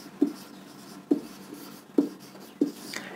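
Marker or chalk taps against a board in a maths lesson on algebraic expressions: four distinct, evenly spaced knocks of writing strokes, close and clear over a quiet room with no speech.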